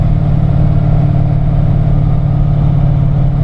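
A carbureted car engine roars loudly and steadily at close range while accelerating through the gears, a dense low throbbing drone with no distinct shifts or pauses.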